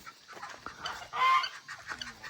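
Geese in a farm pen giving several nasal honks close by, with one louder honk in the middle and softer calls around it, with no speech.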